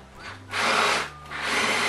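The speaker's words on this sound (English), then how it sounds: "drill the other side." Two bursts of a power drill biting into a wire mesh gate, a brief whir, a short pause, then another sustained run, loud and close.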